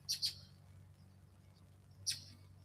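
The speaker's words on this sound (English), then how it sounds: "I don't know what kind of bird that is" Faint high chirps from an unidentified wild bird in Florida: a quick pair of calls, then a single call after a pause, over a low steady background hum.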